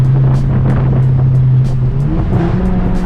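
Ford Focus ST or RS with a catless downpipe accelerating hard, a loud close droning exhaust note holding steady then shifting pitch as it pulls, with sharp intermittent pops over it.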